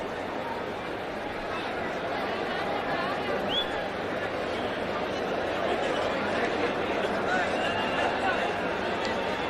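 A huge cricket stadium crowd of over 40,000 at a Kolkata Test match between India and West Indies, a dense steady roar of chatter and babble filling the air, with scattered faint shouts and no single voice standing out.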